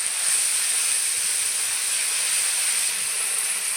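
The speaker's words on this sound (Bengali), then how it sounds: "মশলা ভালো করে কষিয়ে দেবো যেন কাঁচা গন্ধ চলে যায়।" Spice paste (masala) frying in a pan gives a steady, loud, close sizzle, an even hiss with no breaks and no voices.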